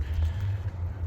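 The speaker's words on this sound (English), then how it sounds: "I think that's a train over there." A steady, low rumble of distant heavy machinery, like a train passing far off, continuous and fairly loud throughout.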